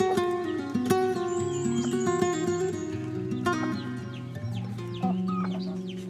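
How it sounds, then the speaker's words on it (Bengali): Native desi chickens cluck and chatter over one another in a busy, close flock, with repeated calls throughout and no human voices. "প্রাকৃতিক উপায়ে দেশি মুরগি লালন পালন পদ্ধতি"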